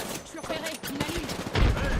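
Bursts of gunfire in the video game Apex Legends, rapid shots mixed with game effects, running under excited talk from a player.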